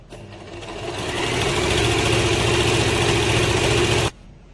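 An Usha Janome Excella sewing machine stitching fabric, a steady mechanical whirring hum that builds over the first second, runs close and loud, then stops sharply near four seconds.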